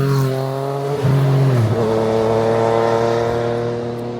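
A Yamaha XSR900 fitted with a CS Racing exhaust, baffle removed, runs loud and close: a steady throaty engine note that dips and rises briefly as the throttle is blipped, then settles into a rumbling idle.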